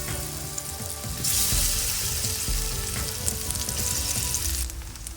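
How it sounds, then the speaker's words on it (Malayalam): Cut ripe nendran plantain pieces drop into hot ghee and fry with a loud, close sizzle that swells after a second, with stirring scrapes and steady crackle throughout. "ഇനി നമുക്ക് അതേ നെയ്യിലേക്ക് തന്നെ നമ്മൾ കട്ട് ചെയ്ത് വെച്ചിരിക്കുന്ന ഈ നേന്ത്രപ്പഴം ഇട്ട് കൊടുക്കാം."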